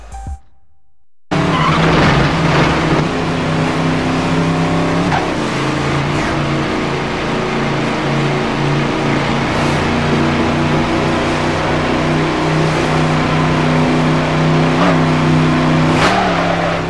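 A car in the racing game Midnight Club 3: DUB Edition Remix roars off the line after a brief quiet start, engine revving hard with squealing, skidding tires and pitch swells as it accelerates.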